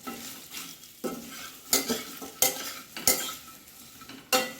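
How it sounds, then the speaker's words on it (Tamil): Already-fried taro root (colocasia) is tossed and stirred in a pan with garlic and curry leaves, giving a soft frying sizzle broken by repeated scraping and clattering strokes of a spatula against the pan at irregular intervals. "அந்த கிழங்கையும் அதில் போட்டு ஒரு 1 நிமிஷம் அப்படியே பரட்டி விட்டுறணும்"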